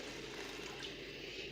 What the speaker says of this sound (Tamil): இப்போ இந்த துவரம் பருப்பை தண்ணி சேர்த்து ஒரு 2 தடவை நல்லா கழுவிட்டு